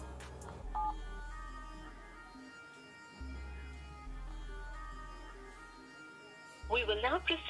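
Telephone keypad tones sound as a mobile number is entered on a Kotak Mahindra Bank customer care call, with short beeps amid a steady hum and a louder burst near the end.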